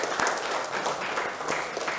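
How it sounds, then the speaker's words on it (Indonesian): High school students applaud in a classroom, steady close clapping from many hands that fills the full short stretch. "Boleh tepuk tangan untuk Surya Panji."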